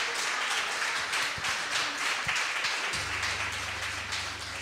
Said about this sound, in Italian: possiamo applaudire